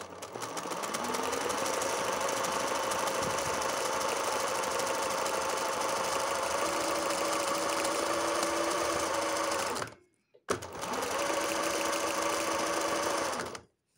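A sewing machine running a blanket (festonê) stitch hums steadily and loud with rapid mechanical needle chatter, stopping briefly once before resuming and then halting.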